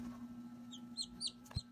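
Young chickens chirp softly several times in short high peeps close by, over a steady low electrical hum, ending with a brief thump.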